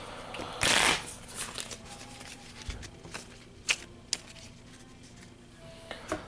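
A deck of cards for the Slaughterville board game is shuffled up close in one quick riffle burst, followed by soft scattered taps and shuffles of cards being handled on a table.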